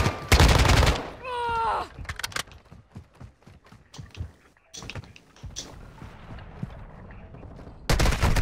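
Gunfire in Call of Duty Modern Warfare 2 DMZ on Ashika Island: a loud opening burst followed by scattered sharp shots and clatter, with a second heavy burst at the end, under faint background talk.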